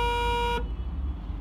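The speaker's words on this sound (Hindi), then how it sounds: "ये देखिए हॉर्न क्या हो," A Hero Karizma ZMR motorcycle horn sounds a single steady tonal blast lasting just over half a second, loud and close, then cuts off abruptly to leave low background rumble.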